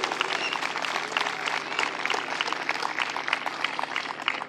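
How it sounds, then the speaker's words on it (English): Outdoor crowd at a youth baseball opening day ceremony applauding on the field, a moderately faint, steady patter of many hands with some murmur underneath. "please give them a round of applause for the condition of this field."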